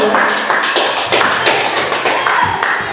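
Participants at a training session applaud, giving a few seconds of dense, steady clapping from a group in an indoor room.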